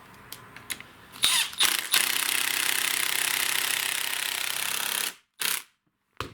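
A power driver whirs steadily for about three seconds as a screw goes into the shaft of a STIHL FS56 string trimmer, with short bursts before and after and a couple of brief clicks near the end.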